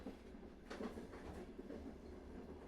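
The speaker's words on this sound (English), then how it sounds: "The train leaves the station." A train rolling along the rails as it pulls away from a station, a steady low rumble with faint rhythmic clacking, moderately distant.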